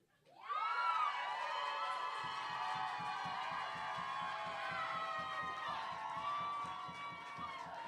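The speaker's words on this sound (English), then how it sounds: "Keep that round of applause going for Ezperanza" A crowd at a Berkeley poetry slam semifinal erupts into loud cheering, whoops and shouting, then settles into sustained rhythmic clapping that carries on to the end.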